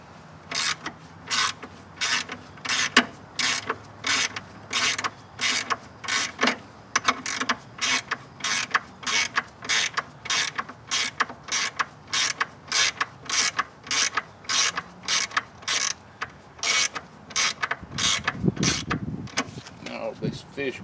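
A ratchet wrench clicks in quick repeated bursts while a battery clamp is tightened on a 1974 Ford 3000 tractor, close and crisp, with short pauses between strokes.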